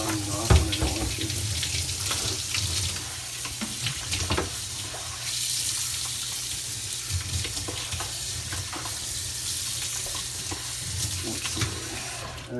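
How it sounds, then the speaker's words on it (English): Steady rush of water from a sensor-activated faucet in a Japanese terminal restroom, running continuously at moderate loudness with a few brief clunks and handling sounds, no talking. "this is a stupid faucet that when you put your hand under it, it senses it"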